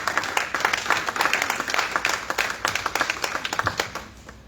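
A church congregation at a worship service applauds, many hands clapping in a dense, irregular patter that thins into scattered claps before fading out.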